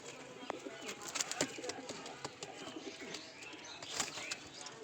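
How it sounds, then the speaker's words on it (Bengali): Giribaz pigeons, a large male and a female, give soft, low coos alongside a few brief chirps and rustles. The sounds are close but quiet, with a faint voice in the background. "তো এই কবুতরগুলো বিক্রি করব।"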